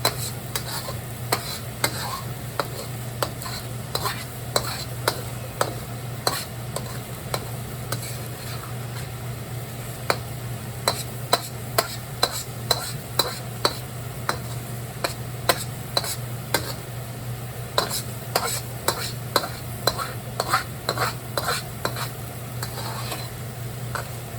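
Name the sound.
stir-frying shrimp cauliflower with scrambled eggs in a pan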